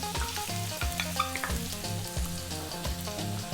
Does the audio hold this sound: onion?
yes